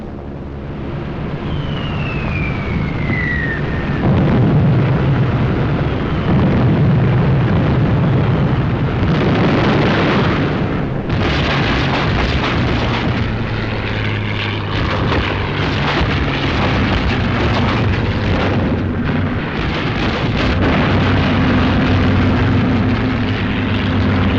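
Loud wartime air attack from a 1944 WWII film, with droning bombers, fighters and tank busters overhead and heavy explosions rumbling continuously, a dense wall of engine roar and blasts without any speech.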